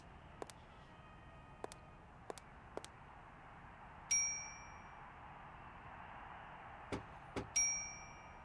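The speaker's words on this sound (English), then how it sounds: "Oh, fine, I'll ring your bell." A door bell rung in the video game Syberia, several sharp metallic dings spaced irregularly over quiet background hum, a few of them ringing out longer, with no talking.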